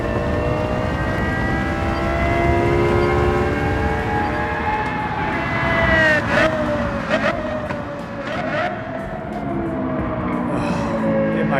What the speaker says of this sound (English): I just want to hear this thing rev, and we're going to hear it in one moment.